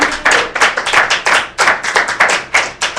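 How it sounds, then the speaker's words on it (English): Worshippers in a church congregation clap their hands in praise, a close, loud, rhythmic beat of claps in quick regular pulses, with no voices over it. "Come on, get a Father hand clap of praise."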